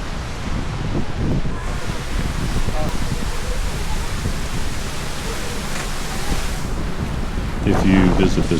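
A waterfall in South Iceland roars as a constant broadband rush in light rain, with gusts of wind buffeting the microphone and a louder swell near the end.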